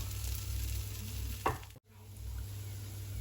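A palatschinken pancake with cheese cooks in a pan, a quiet steady sizzle with a brief scrape or stir and a short dip in the sound, no voices.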